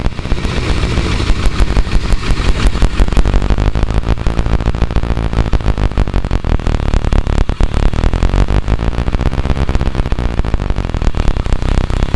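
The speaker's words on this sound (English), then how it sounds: "The more I block it off with my hand, the higher we can make the idle speed go" A Rolls engine that keeps stalling once hot idles loudly and close, with a rough, dense running sound, as a hand blocks the air filter intake and the idle speed climbs steadily. No one speaks.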